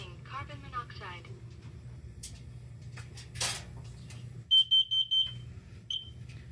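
A Kidde smoke alarm sounds during a household test, giving a short run of about four loud, high-pitched beeps after some handling noises and talk.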